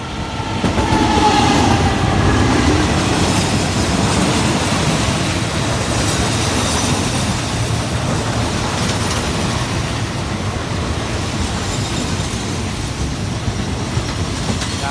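A GEA diesel locomotive hauling a passenger train rolls into a Thai station with a loud, rumbling roar and rhythmic clatter of wheels on rails, gradually easing as it slows.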